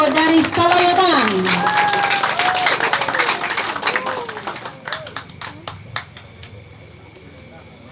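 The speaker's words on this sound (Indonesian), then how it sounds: "tepuk tangan untuk grup Randai Elok Sayo dari Salawatang" Audience clapping for the Randai Elok Sayo group from Salawatang at a Randai traditional performance competition, loud at first and thinning into scattered claps, with a voice speaking over the start.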